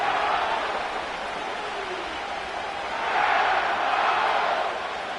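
A dense, steady roar from a stadium crowd in an EA Sports NFL football video game at SoFi Stadium, Inglewood, holds throughout and swells briefly in the middle.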